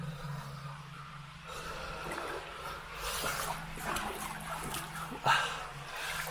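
A cavernous tunnel in Kent with clear water, giving a soft echoing ambience of trickling and dripping water, a faint low hum, and one sharp splash or knock near the end.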